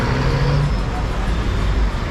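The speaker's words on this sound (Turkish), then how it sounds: "Burası sanırım bir otobüs garı." Traffic at a bus station in Nairobi, Kenya, where brightly painted buses and minibuses gather, gives a steady, loud roadway rumble of idling engines and passing vehicles.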